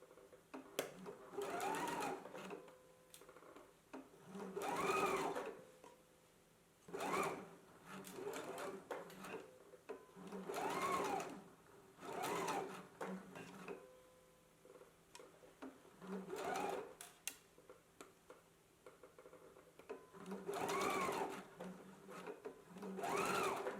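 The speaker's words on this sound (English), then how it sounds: "I'm going to go to the sewing machine." A sewing machine stitching a seam runs in repeated bursts, whirring up and stopping, with quieter pauses and faint handling noises between stitching runs.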